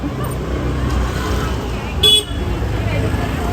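Steady roar of road traffic in Udaipur, India, with a short car horn toot partway through, faint voices underneath.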